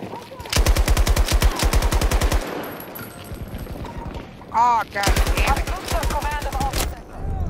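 Bursts of rapid automatic fire from a light machine gun in a first-person shooter video game, with a long loud burst early, a brief pause, then more sustained firing later, alongside game effects and a player's voice.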